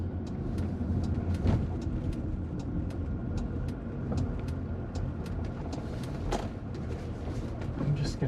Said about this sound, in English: Highway driving and some twisties.